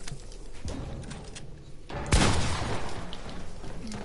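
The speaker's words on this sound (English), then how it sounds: "Bam! The shotgun!" A shotgun firing in an online duos shooter game, a single loud close blast at the midpoint cutting through busy background game noise and earlier muffled activity.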